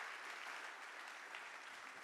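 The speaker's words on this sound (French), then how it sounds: "On peut déjà applaudir pour ce magnifique projet." Audience applause after a presentation on converting a 1960s parking garage into an office complex, steady dense clapping throughout, moderately loud with no talk.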